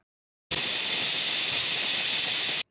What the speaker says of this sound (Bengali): 7-8 মিনিট পর একটা শিশ বেজে উঠল।